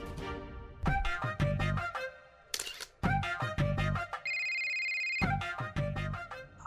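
A mobile phone rings with an incoming call in a Marathi TV drama scene: loud, close, repeating bright melodic chimes with a short gap, then a sustained electronic tone before the melody resumes.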